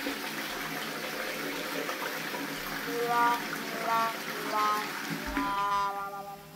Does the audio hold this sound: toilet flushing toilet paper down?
yes